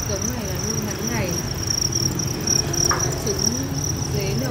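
Farmed Thai crickets on a cricket-rearing farm chirping continuously, a dense, steady high trill close by, with faint background noise and occasional soft voices.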